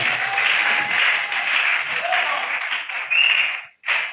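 An audience claps and cheers at a pastoral couple's anniversary celebration. The applause is dense and steady for about four seconds, then briefly breaks off near the end.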